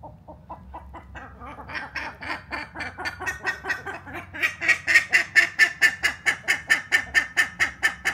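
Bandurria ibises in El Bolsón, Argentina give a loud, steady run of rhythmic honking calls that grows stronger and denser, roughly two per second, with no talking.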